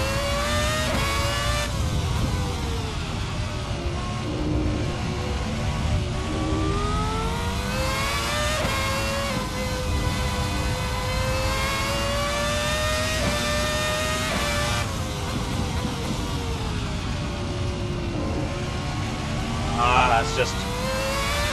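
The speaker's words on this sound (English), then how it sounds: "The engine sounds wonderful and running great." A race car engine in a sim racing game revs hard through rising and falling gear pulls, loud and continuous, with someone talking over it throughout.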